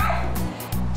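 Dogs bark and yip inside a dog-friendly restaurant, two or three quick sharp barks with a whimpering tone close by, briefly breaking off mid-second.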